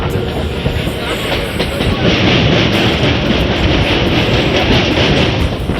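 A train rolls loudly past Kamarkundu station, its rumble steady and close, with a rhythmic clatter of wheels over the rails.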